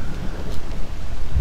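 Steady rain with a low rumble of thunder and wind buffeting the microphone during an outdoor thunderstorm on a lake while fishing, a continuous dense wash of noise throughout.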